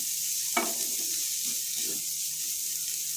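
Chopped onions frying over a very low flame, a soft, steady hiss with a few light scrapes as they are stirred in the pan.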